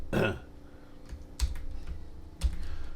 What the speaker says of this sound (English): so I'll just type it out